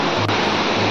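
Patahara waterfall pours in a steady, loud rush of broadband water noise that holds evenly throughout with no voices.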